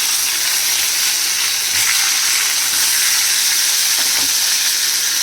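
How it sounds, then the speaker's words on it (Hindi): Tomatoes hitting a hot pan with cumin on low-to-medium flame, giving a steady, close hiss of frying that runs unbroken throughout with no talk. "अब देखिए इसमें हम टमाटर डाल देंगे"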